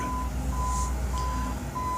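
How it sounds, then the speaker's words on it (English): A steady series of reversing beeps from an excavation truck at a neighboring yard excavation, evenly spaced pulses repeating at a distance over a constant low engine rumble. "They're having their yard excavated"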